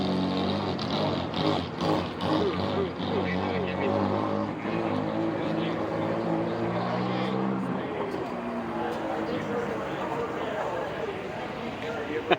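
Cars at the Middleburg drag race, a loud engine roar that rises and fades as they pass, heard mostly under ongoing talking and crowd noise.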